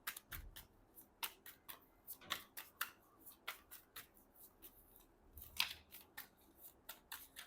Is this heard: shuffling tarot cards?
yes